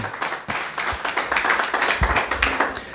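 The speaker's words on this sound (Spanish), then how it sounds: "Pero no aplauso aguado, fuerte, hermanos" A church congregation claps hard together, sharp rhythmic slaps close by and loud, pulsing in uneven bursts across the few seconds.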